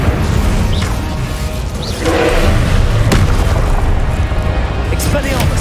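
A fiery Incendio spell cast in Hogwarts Legacy bursts with a dense, booming whoosh that sustains loudly for several seconds, with sharp crackling hits layered over a busy game soundtrack and a voice talking throughout.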